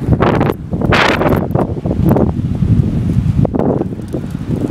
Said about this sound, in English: the wind is picking up out here. Winds are very high in North Carolina